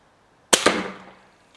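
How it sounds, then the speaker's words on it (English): A shot from an original Model 50 air rifle hits a Firebird exploding target with a sharp double crack, and a brief ringing decay follows in a quiet setting. "it's time for round two of original Model 50 versus Firebird exploding target"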